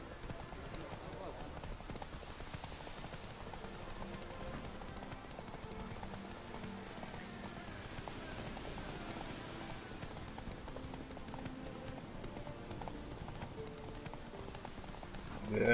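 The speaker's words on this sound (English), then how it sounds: "no va a tocar correr una carrerita con el caballo" Horse galloping in The Witcher 3: Wild Hunt, a quiet continuous patter of hoofbeats running steadily under game audio while someone talks over it.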